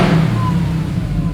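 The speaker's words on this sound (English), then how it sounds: "you've got a lot of tone going on, a lot of whine from the supercharger" A 1000 HP Demon-engined carbon fiber Dodge Charger with a smaller supercharger pulley revs, a steady loud engine tone with supercharger whine running throughout, close and without talk.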